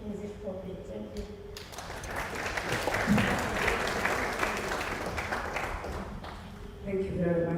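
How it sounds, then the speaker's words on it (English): A conference audience bursts into applause after a presentation. The loud, dense clapping lasts several seconds between stretches of speech, then fades as talking resumes. "We still have another round of applause"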